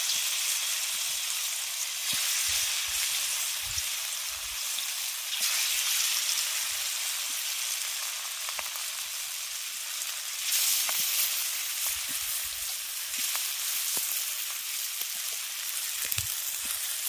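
Pieces of fish belly drop into hot mustard oil in a wok and fry with a loud, continuous hissing sizzle. Scattered pops and crackles run through it for the whole stretch, with no voices.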